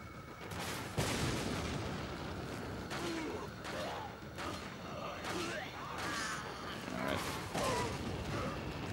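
Rocket launcher blasts and combat noise in the video game Resident Evil 4: repeated sharp bangs and crackling impacts punctuate a dense, busy game soundscape, with someone talking over much of it.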